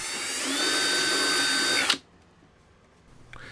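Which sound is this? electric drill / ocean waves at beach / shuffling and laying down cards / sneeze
electric drill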